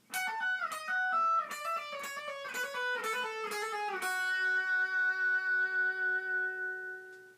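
An electric guitar plays a short melodic phrase of a battle theme from Pokemon Omega Ruby, rapid picked notes giving way to a final ringing note that sustains and fades.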